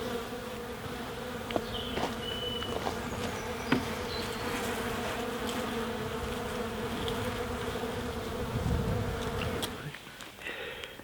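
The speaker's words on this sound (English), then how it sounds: "all the bees now have united together because there was a hole through the paper" Honey bees hum continuously in and around a hive, a dense, steady buzz close to the microphone with occasional individual bees passing nearer, no voices present.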